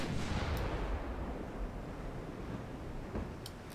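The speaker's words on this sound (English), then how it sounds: "Fire a few pop shots." Warship gunfire in the naval strategy game Ultimate Admiral Dreadnoughts: a low, rolling boom of distant cannon shots under a steady wind-like rumble of sea ambience, with no voices.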